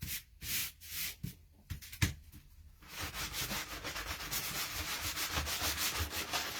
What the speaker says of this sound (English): I'm using this sanding block,